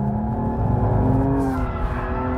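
BMW M235i held in a drift at full throttle around 6,500 RPM, a loud sustained engine drone with steady harmonic tone and slight pitch wavering, heard close and alone.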